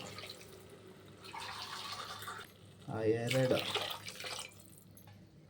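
Water is poured from cups into a pot while making pulao, with a short burst of splashing and gurgling partway through. A person talks before and around the pour, close to the pot.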